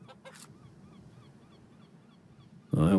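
A hen in the video game The Hand of Glory lets out a sudden loud, harsh squawk near the end, after a stretch of quiet ambient background.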